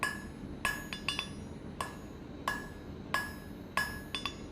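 A hammer strikes the tip of a steel fire poker on an anvil, forging a blunt taper: about a dozen sharp, ringing metallic blows at an uneven pace, some landing in quick doubles, with nothing else heard.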